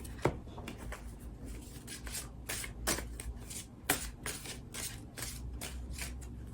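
Sacred Spirit reading cards shuffled by hand, with soft close rubbing and sliding broken by a series of sharp irregular card snaps and taps.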